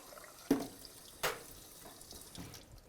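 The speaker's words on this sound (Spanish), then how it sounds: "Entonces, vamos a poner un poco de agua." At a cocktail bar, a little water is poured in two short, soft splashes close by, then gentle trickling in a quiet room.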